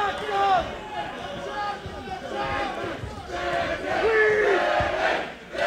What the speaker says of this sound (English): Crowd very much behind Maddalone in here.